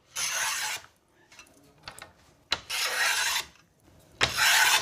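Three bursts of rasping hand-planing on the ebony points of a snooker cue, each stroke a broad scraping rush with small knocks between, close and clear with no talk.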